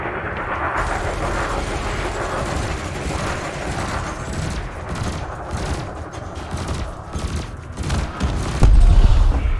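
Spaceship weapons firing in a space combat video game: dense, continuous volleys of blasts and rumbling booms stacked together, loud and close, building to a heavier burst at the end.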